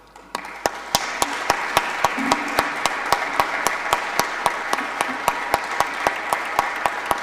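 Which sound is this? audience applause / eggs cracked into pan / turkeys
audience applause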